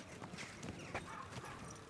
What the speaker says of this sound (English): Whoa, horsey! Easy, Calm down. good horse.